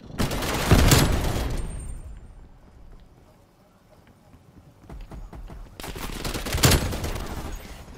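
A Tec-9 fires in Call of Duty in two loud, rapid bursts, one near the start and one toward the end, separated by a quieter stretch of scattered game sounds.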